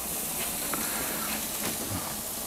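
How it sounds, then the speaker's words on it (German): Gyros skewers sizzle on a hot barbecue grill, a steady broadband hiss that persists at moderate level throughout with a few faint crackles and pops, and no talking. "Oh, und das zischt auch schon schön."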